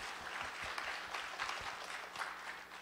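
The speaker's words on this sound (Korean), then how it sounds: "여러분 박수 한번 부탁드리겠습니다." An audience at a church concert on Easter Sunday claps together at moderate distance, a dense patter of hands running throughout the short stretch with a few sharper individual claps near the front.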